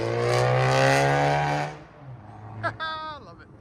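A loud 2020 VW GLI turbo with down pipes and straight pipes roars past, its engine note sweeping and then fading, followed by a brief higher whine as a voice talks near the end.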